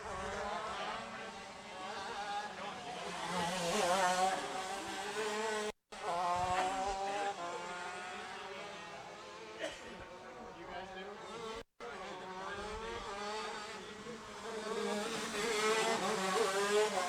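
Shifter karts race around a track at the Florida Winter Tour Rok event in Jupiter, Florida. Engines buzz and whine with rising and falling pitch as the karts pass, continuous and fairly loud under a commentator's voice.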